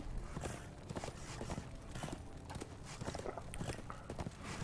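Horse hooves clopping in steady, busy rhythm as a rider gallops through Darksiders II, the footfalls dense and mid-loud throughout.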